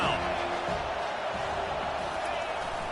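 Stadium crowd noise in the College Football 25 video game, a steady loud roar of fans sustained throughout with a game commentator talking over it.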